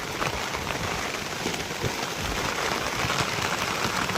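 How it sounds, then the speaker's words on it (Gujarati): Heavy, steady rain pours down continuously, a dense broadband wash of drops hitting surfaces, loud and close throughout with no pauses. "વરસાદ એમને એમ ચાલુ છે"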